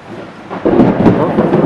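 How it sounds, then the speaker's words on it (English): Thunder rumbles loudly during a storm, building from a low background into a dense, sustained roll that fills the rest of the clip, with rain-like noise mixed in and no voices. "sorry about the lightning and thunder in the background"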